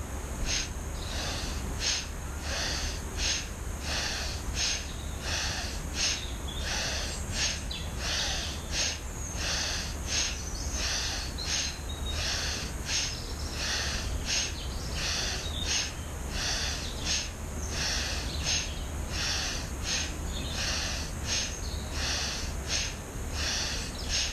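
A yoga breathing exercise with repeated forceful nasal exhalations, a steady rhythmic train of short sharp breath bursts about once per second, close and fairly even in level, with no talking.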